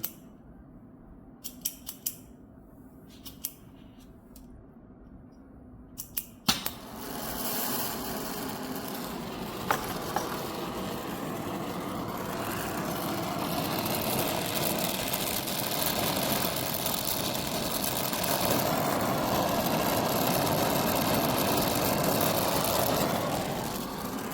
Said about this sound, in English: So I'm going to relight my torch and go ahead and correct that potential leak.